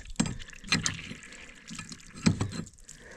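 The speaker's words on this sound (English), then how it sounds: "You can see it's pushing water out and there's not even any pressure on it" A faulty pressure washer pushes out water with no pressure, giving weak irregular splashes and gurgles in short bursts close up, with no talking over it.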